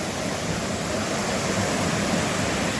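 Twin Falls waterfall near Jasper, Arkansas, rushes as a steady broadband roar of falling water, close and continuous with no voices.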